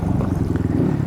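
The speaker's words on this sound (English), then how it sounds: "My arms burn, throttle hums, tires kick up dust and stones" A motorcycle engine labors up a rocky mountain trail, a steady low throbbing drone held close and loud throughout without pause.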